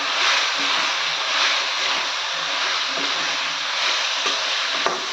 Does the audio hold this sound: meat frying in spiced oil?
yes